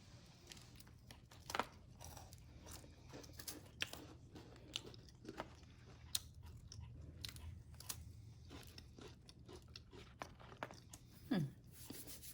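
Soft, irregular crunching bites and chewing of a crunchy cracker close by, quiet overall with a few sharper crunches standing out.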